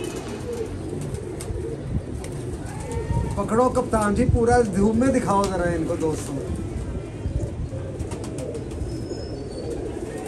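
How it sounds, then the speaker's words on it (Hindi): Pigeons of a prized pair coo in soft, repeated warbling calls at close range, partly masked by someone talking over them throughout. "ये देखे कबूतर"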